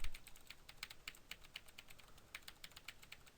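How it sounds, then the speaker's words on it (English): Rapid, close typing on a mechanical Razer keyboard. Crisp key clacks come in quick irregular bursts with no talking. "I did waste some money on a new keyboard. It is mechanical though, so I don't know if you can hear this"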